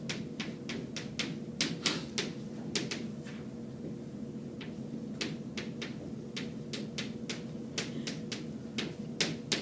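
Writing on a board during a chemistry lecture: irregular sharp taps and short scrapes over a steady room hum, with no talking.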